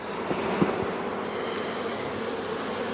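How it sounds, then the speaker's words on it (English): A hive's honey bees are shaken off a frame lined with queen cells, producing a dense, steady buzzing swarm close by, with a couple of dull thumps early on. "So I'm just going to shake these bees off"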